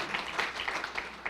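Brief, scattered clapping from an audience after a poem reading at a literary event, a handful of distinct claps, fairly faint and quickly fading.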